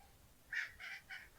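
Chickens clucking inside a coop on a farm, four short faint calls in quick succession, alone and somewhat distant.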